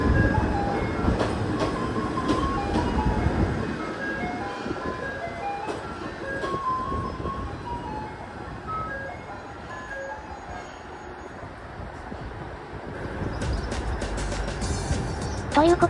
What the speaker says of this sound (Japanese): 普通列車もやってきました。